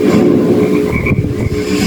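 A cane toad gives a loud, continuous low croaking trill that fills the clip, close and steady, with no voices.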